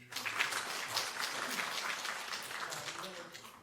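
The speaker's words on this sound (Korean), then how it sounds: "박수 박상일." Steady applause from a church congregation fills the whole stretch, dense and even, with murmuring voices underneath.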